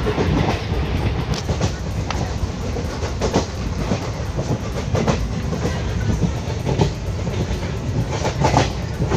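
Train rolling near Badargarh railway station, with loud, close clickety-clack of wheels over rail joints, a continuous rumbling wagon rhythm and no talking.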